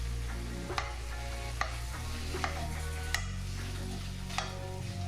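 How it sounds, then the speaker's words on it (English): Ground turkey and onions sizzle steadily in a hot pan, with a few sharp scraping knocks from a utensil as the meat is stirred and broken up; close, continuous frying with no talk. "we're gonna go ahead and start breaking that turkey ground meat up"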